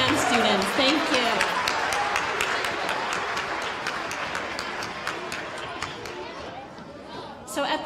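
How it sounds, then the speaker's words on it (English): Sustained applause from a large audience at an elementary school winter band concert, dense steady clapping that gradually thins toward the end, with crowd murmur beneath. "if we could please give another round of applause"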